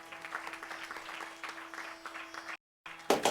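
An audience claps steadily at a Hindu temple during a Navaratri yajna night in Guyana. The applause is a dense, even patter that drops out briefly and then returns louder.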